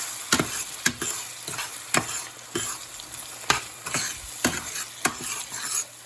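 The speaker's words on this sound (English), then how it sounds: "Just give it a stir." Refried pinto beans frying in a pan, stirred in a steady series of scraping strokes roughly every half second over a constant close sizzle, with no talking.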